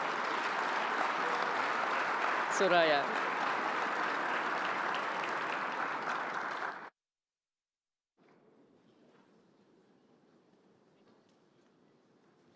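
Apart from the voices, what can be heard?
audience applause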